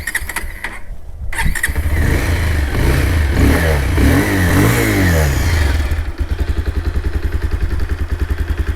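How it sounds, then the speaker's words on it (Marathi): A 2024 Bajaj Pulsar 220F motorcycle engine cranks after a short pause, catches and revs loudly and unevenly, then settles into a steady, rapidly pulsing idle, close up with no talking. "एकदा तुम्हाला आहे ना गाडीचा साऊंड ऐकून दाखवतो"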